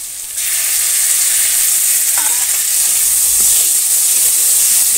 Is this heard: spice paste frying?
yes